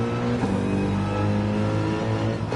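A 1999 Porsche engine revs steadily in the Gran Turismo 7 racing game, a loud, continuous, buzzing drone with strong harmonic tones that holds near and constant throughout.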